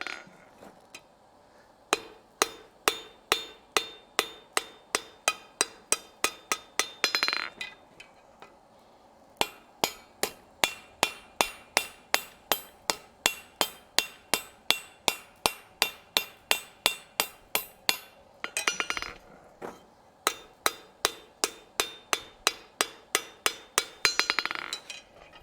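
Hammer blows on hot steel at an anvil while forging a decorative hacksaw: rapid, evenly spaced ringing strikes in long runs, broken by short pauses, close and sharp.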